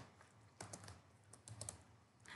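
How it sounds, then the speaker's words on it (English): Rapid keystrokes on a computer keyboard entering numbers into a matrix in engineering software, irregular bursts of close, crisp clicks in a quiet room. "I'm just typing random values onto this"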